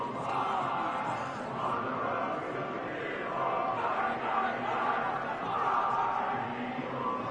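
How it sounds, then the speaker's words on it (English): A home crowd at a Philadelphia Eagles football game roars and applauds after a victory, a broad, sustained wash of distant cheering that carries through the whole stretch at an even level. "the home crowd applauding"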